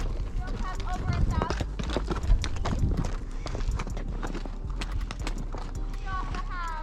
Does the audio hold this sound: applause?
no